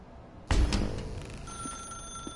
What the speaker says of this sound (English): That's her, Stanley. Oh, no, you can't. I did. Did you just unplug the phone